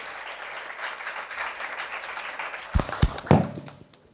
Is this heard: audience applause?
yes